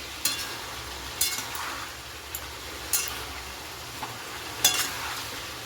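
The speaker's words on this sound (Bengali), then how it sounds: "এই দেখো আমার মাংসটা একটু ভেজে নিয়েছি" Meat frying in a pan for a home-cooked biryani, a soft steady sizzle with several sharp stirring scrapes and clinks of the utensil at irregular intervals.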